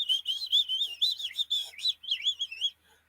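Small birds whistling and chirping after a storm, a near, continuous run of high tweets and warbling phrases for a few seconds before falling silent.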